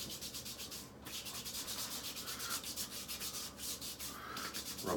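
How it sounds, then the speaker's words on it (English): Hands rubbing aftershave onto bare arms after a shave, a steady swishing friction of skin on skin that repeats in quick strokes, close and fairly quiet with no one talking. "Rub my arms down, getting a little bit of that scent there."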